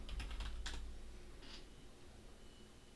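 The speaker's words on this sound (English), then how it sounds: "We'll type in the same," Computer keyboard typing during a chatbot preview: a quick cluster of soft key clicks in the first second, a lone tap near 1.5 seconds, then quiet room tone, close and faint.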